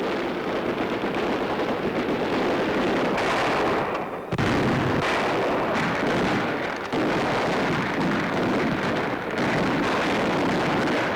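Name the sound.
gunfire and mortar fire in WWII town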